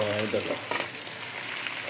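Chicken for adobo sizzles steadily in a pan with liver and gizzards, a loud continuous frying hiss with brief stirring scrapes near the start.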